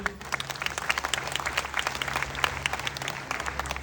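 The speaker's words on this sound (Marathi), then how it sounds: "आणि माय लाईफस्टाईल साठी शेवटी आणखी एकदा खूप खूप जोरदार टाळ्या झाल्या पाहिजे" An audience at a My Lifestyle event gives a dense burst of applause, many hands clapping quickly and steadily at moderate distance, with no voices over it.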